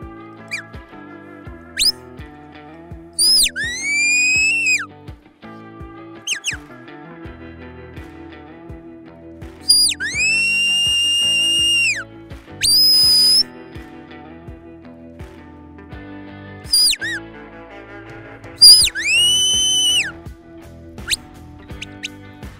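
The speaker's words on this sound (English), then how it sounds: "you see that I'm using the whistle" A shrill herding whistle blown in several separate blasts to command a working stock dog, some rising and falling, others held steady, against a quiet outdoor backdrop.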